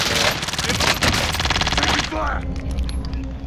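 Rapid automatic gunfire rattles loudly for about two seconds in a video game, then cuts off into a quieter aftermath with a brief whooshing sound.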